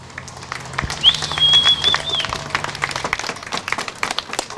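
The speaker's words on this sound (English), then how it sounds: "Give yourself a round of applause, please." An outdoor audience at a First Friday march in Ashland, Oregon gives a light, scattered round of applause, a mix of near and distant claps with a faint bird chirp above.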